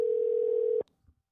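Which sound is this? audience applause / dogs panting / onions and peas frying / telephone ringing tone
telephone ringing tone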